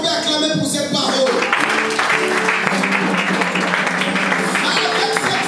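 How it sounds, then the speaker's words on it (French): A church congregation breaks into loud sustained applause and clapping, a dense wash of hands filling the room with voices and music faintly underneath. "Est-ce qu'on peut acclamer pour cette parole?"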